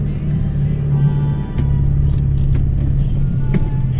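A 4WD vehicle crawling through desert bulldust in the Simpson Desert, a steady loud engine drone with rumbling and occasional knocks and rattles from the rough track, no talking.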